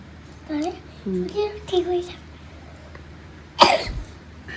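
A child coughs once in a short, sharp burst near the end, after some earlier child vocalizing; the child has a bad cough and a slight fever overnight.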